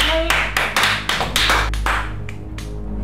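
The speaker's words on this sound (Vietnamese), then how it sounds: "Vỗ tay." Several sharp hand claps in a loose irregular burst, close and fairly loud, celebrating a surprise birthday in an office, tapering off toward the end.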